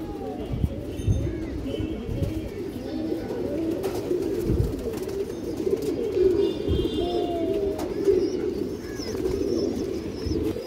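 Club-tagged racing pigeons coo in a loft, soft repeated throaty calls at close range with a few chirps, under someone talking.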